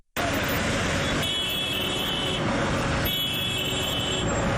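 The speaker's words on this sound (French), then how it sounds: "Liberté 6, en cette matinée ensoleillée, la circulation est dense." Dense road traffic streams steadily past on a sunny morning in Liberté 6: cars and trucks make a broad continuous roar, with a brief horn toot heard in the mix.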